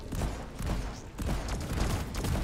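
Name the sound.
gunfire shooting a Praetorian in Deep Rock Galactic video game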